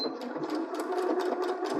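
Sewing machine stitching the fabric of a lined zipper pouch, a steady fast whirring hum that runs close and continuous throughout with no talk over it.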